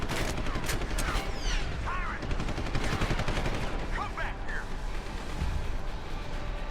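Rapid gunfire bursts in the video game Deus Ex: Human Revolution Director's Cut on Wii U, dense and continuous over game effects, with a voice talking over the shooting.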